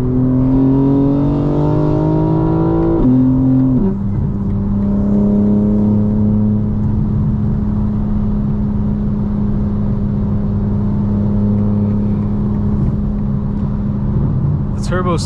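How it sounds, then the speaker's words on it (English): Turbocharged engine of a 2025 BMW M4 Competition xDrive accelerating from inside the car, a loud steady drone whose pitch climbs then settles after a gear change, continuous and close throughout. "The turbos spool up so fast in this car, it's crazy. They sound mean too."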